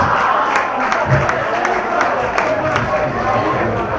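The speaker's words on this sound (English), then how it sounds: "Give you guys a big round of applause." Graduation event crowd in a campground setting applauding and cheering, a dense continuous wash of clapping that fills the whole stretch, loud and close, with voices mixed in.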